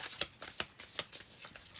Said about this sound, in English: Shuffling is going weird tonight.